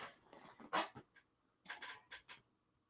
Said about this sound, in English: Sorry if you guys can hear that dog yapping in the background